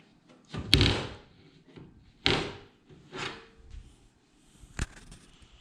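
Side cover of an Amazon-bought gaming computer case pulled off, giving a few loud separate thunks and clatters spread over several seconds, with no talk.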